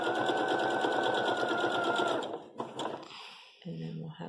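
Sewing machine stitching a quilt block, a loud fast whirring run for about two seconds that then stops, followed by handling noises and a brief voice.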